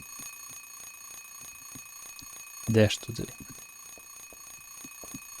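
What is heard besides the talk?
alarm clock ringing in the video game Silent Hill 3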